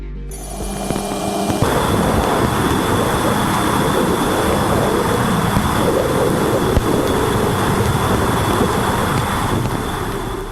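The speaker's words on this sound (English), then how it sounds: "This is the sound of the electromagnetic waves coming from the gas giant Uranus," Electromagnetic waves from the gas giant Uranus, captured by the Voyager 2 spacecraft's plasma wave antenna, come through as a dense, continuous roaring hiss. It starts with a short thin lead-in, then holds a steady, rumbling, noisy wash.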